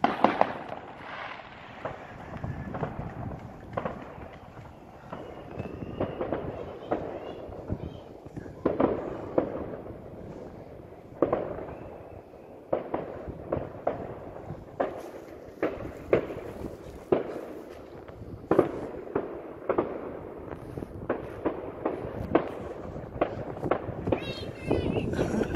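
New Year fireworks pop and crackle in repeated bursts at a moderate distance, spread across the whole stretch, with children and adults talking and calling out between the bangs.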